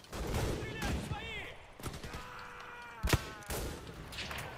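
Gunfire from a free-to-play shooter video game cracks in scattered bursts, with a sharp louder shot near the end, while players shout and talk over it throughout.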